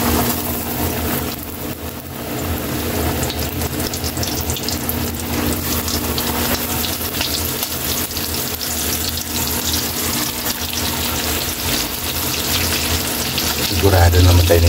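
Chicken necks frying in hot cooking oil give a steady, loud, broadband sizzle that runs unbroken for the whole stretch, swelling slightly near the end, with no talking.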